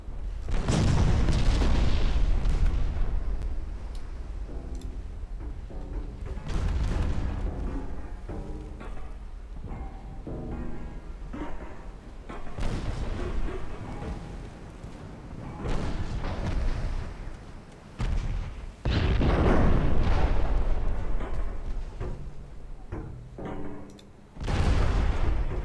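Naval shells fired during a night battle in a video game, heard as continuous heavy booming and rumbling blasts layered over one another, loud and dense throughout with only brief lulls.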